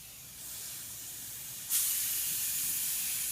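Spray gun applying Evercoat gelcoat to a 1966 Corvette: steady, loud airy hiss that starts, then jumps louder and holds continuously, with no voices.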